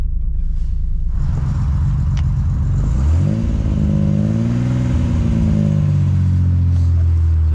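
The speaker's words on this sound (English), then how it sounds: "So James is just setting off with the Supra now." An ITB-equipped Toyota Supra pulling away, its engine rumbling at idle before revving up in rising, loud sweeps as it sets off close by.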